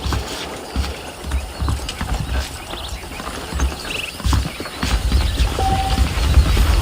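Saddled horses in the Western video game Red Dead Redemption clip-clop in a steady, close rhythm of hoofbeats over a low outdoor ambience.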